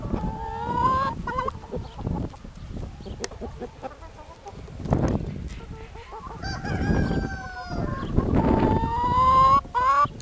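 Large flock of about a thousand free-range hens with roosters on a farm in the Prekmurje plain, dense continuous clucking and squawking calls, some close and loud, filling the whole stretch.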